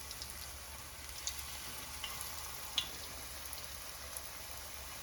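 Panfish frying in oil over medium heat, a faint, even sizzle with occasional small pops and crackles, heard alone.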